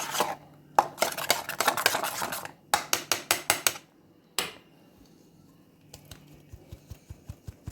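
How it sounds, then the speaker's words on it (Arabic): Tomato sauce is strained through a sieve to separate the seeds, with rapid bursts of close scraping and rubbing strokes, short pauses, then a slower run of light rhythmic taps. "اصفي الصوص بتاع الطماطم واعزل البذر"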